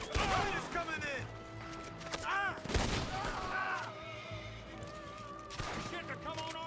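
Gunfire rings out in a Red Dead Redemption 2 shootout, with several sharp shots and booms spread through the scene, alongside horse whinnies and character voices shouting.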